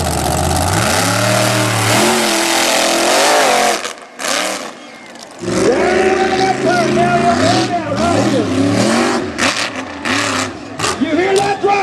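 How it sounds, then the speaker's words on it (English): A supercharged, alcohol-injected mega truck engine at a race roars and revs hard, climbing and falling in pitch with sharp throttle blips and a brief drop, while a commentator talks over it. "You hear that throttle control of the Louisianimal."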